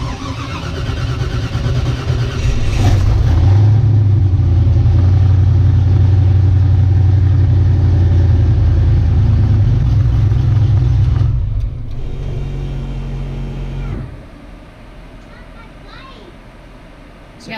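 Drag car engine starting and then idling loudly with revving, a strong low rumble that holds steady for about ten seconds before dropping to a quieter idle.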